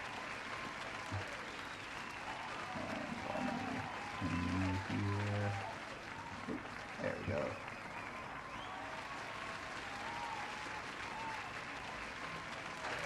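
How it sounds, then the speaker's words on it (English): Audience applause for the poet Iris at an anthology launch event, moderate clapping rising around the middle of the clip and then settling into a steady patter, with a speaker's voice talking over it. "Claps for Iris."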